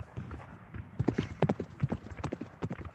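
Hooves clip-clopping as a horse is ridden away, a quick uneven trot on hard ground at moderate distance, steady for several seconds with faint murmuring underneath.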